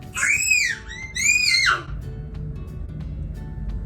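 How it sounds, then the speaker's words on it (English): A young boy yells in two long, shrill, wavering bursts while playing a game on a tablet indoors, then falls quiet against a low room hum. "that is my child over there yelling, playing in his tablet"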